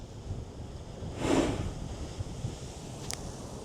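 Rough ocean surf on the Maui coast roars below as a low, continuous wash, with one big wave surging up midway. Wind buffets the microphone throughout.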